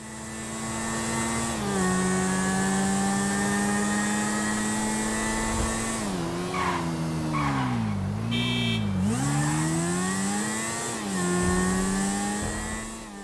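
A motorcycle in GTA V rides through a night drive, its engine droning steadily with rising and falling revs, a dip and recovery midway as the throttle eases and opens again, loud and close with no voices.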